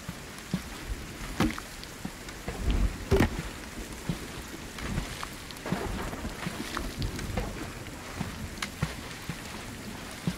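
Stormy rain in the survival game Sons of the Forest hisses steadily at moderate level, broken by scattered sharp cracks and a low rumble of thunder.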